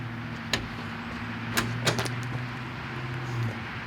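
Door of a 4x4 ambulance camper van being opened: a few sharp clicks and clunks, close and moderately loud, spaced over a steady low hum.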